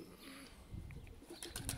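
Pigeons on a home rooftop coo softly in a brief, faint stretch, with low throaty calls over light background rustle.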